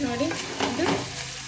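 Beans palya cooking in a pan, a close, steady bubbling sizzle with a stirring scrape, while a voice speaks briefly over it.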